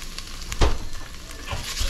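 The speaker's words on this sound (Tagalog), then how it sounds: "Gisa lang ulit natin hanggang mag-translucent yung kanyang sibuyas." Chopped onions sauté in a pan for chicken arroz caldo, making a loud, continuous close sizzle with a few sharper crackles and stirring knocks. No voices.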